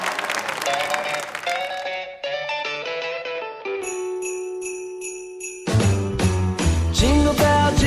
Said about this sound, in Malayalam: നമുക്ക് അവരെ സ്വാഗതം ചെയ്യാം നിറഞ്ഞ കൈയടികളോടെ ഒരു അത്യുഗ്രൻ ഗ്രൂപ്പ് ഡാൻസിനായിട്ട്